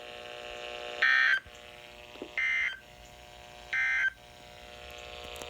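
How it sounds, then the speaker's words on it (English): Three short, bright electronic data bursts of an Emergency Alert System test on a Reecom R1650 weather radio receiver for the Rockford area, evenly spaced about a second apart over a low steady hum, with no talking. "This concludes the tone alarm test."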